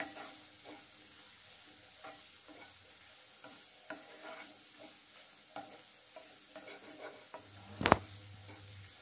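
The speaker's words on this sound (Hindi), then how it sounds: "ଯେତେବେଳେ ମୁଁ ଏଇଟାକୁ ଏମିତି ଫ୍ରାଏ କରୁଛି" Garlic mushrooms frying in butter over a low flame, a faint sizzle with scattered light stirring scrapes and a single sharp clink near the end.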